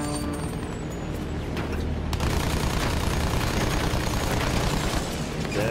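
Rapid gunfire and explosive blasts from the shooter game Battlefield 1 fill the scene densely, sharper shots at first, then a constant loud barrage with no voices.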